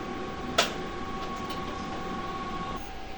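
Inkjet printer running a print head cleaning cycle: a steady mechanical hum with a sustained tone, a sharp click near the start and faint ticks, no voices.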